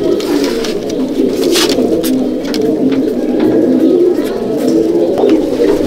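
Loft pigeons of the Panja and Phulshira kinds coo in a continuous, dense chorus nearby, with soft rhythmic rolling calls and a few brief clicks or wing sounds, no talking.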